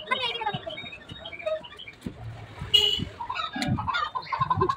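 Chickens at a coop cluck and squawk in quick, uneven bursts, close by, mixed with people talking and scattered knocks and rustling.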